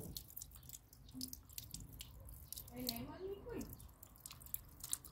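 Water runs from a sink tap during handwashing, a faint, steady trickle and splatter with small drips, heard close but quiet, with a voice briefly in the background.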